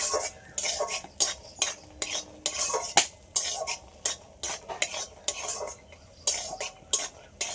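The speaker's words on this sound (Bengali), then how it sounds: "এর মধ্যে এবার কাজু বাদাম নিয়ে নিই কিচমিচ দিয়ে দেবো এগুলো সব একসাথে আর একটু ভেজে নেব" Cashews and raisins are stirred and fried in a pan, with a spatula scraping and clacking against the metal in regular, close strokes over a soft sizzle.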